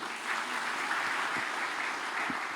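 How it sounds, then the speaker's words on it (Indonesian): A church congregation applauds during a sermon in Palu, a steady wash of many hands clapping at moderate distance, fairly soft and even throughout with no talk over it. "Tepuk tangan bagi dia."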